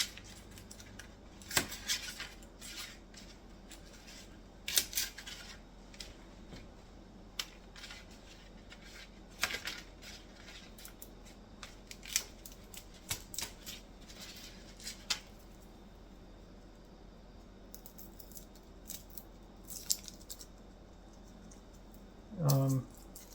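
Garlic clove crushed and peeled while making hummus, heard as a run of close, sharp clicks, taps and scraping handling noises at uneven intervals, with a louder knock near the end.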